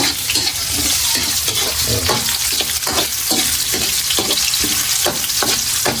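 Onions tossed into a hot pan already cooking garlic and ginger for a Filipino chicken dish, frying with a loud steady sizzle, broken by repeated scraping stirs at a quick uneven rhythm, close up with no talking.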